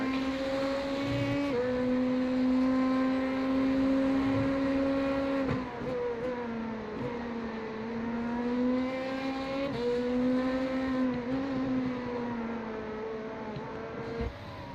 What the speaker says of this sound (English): Fantastic noise these cars make.